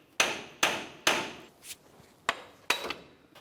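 A hammer strikes a front CV axle underneath a 2004-2015 Nissan Titan to break it free from the front differential. Six sharp, ringing metallic blows land close by in uneven pairs and singles, each decaying quickly, with no talking.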